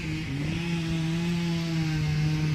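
Steady, loud chainsaw motor running continuously while cutting timber during road work, a droning buzz with a slight pitch rise early on and no voices.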